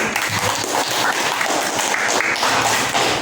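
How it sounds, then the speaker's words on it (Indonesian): A classroom group gives steady, dense applause for the Cendrawasih discussion team, continuous clapping throughout, fairly loud and close, with no talking over it. "berikan tepuk tangan untuk kelompok cendrawasih"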